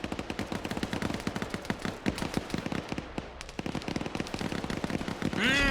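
Rapid bursts of Arma 3 gunfire crackle steadily across the whole stretch, dense overlapping shots at close to middle distance, with a brief lull partway through and a louder sustained sound at the end.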